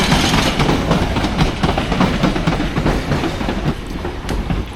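A London Underground Piccadilly line train rolls past, loud and close, with continuous rumbling and rhythmic clickety-clack of wheels over the rails.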